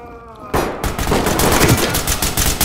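Gunfire in the tactical shooter Ready or Not: a sudden loud burst breaks the quiet, followed by rapid, close, repeated shots that rattle on without pause to the end.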